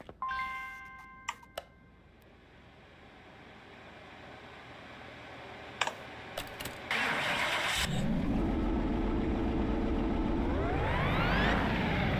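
A car engine in Car Mechanic Simulator 2021 cranks and starts on a dyno after a few clicks and taps, then runs loudly and revs upward near the end, with no talking.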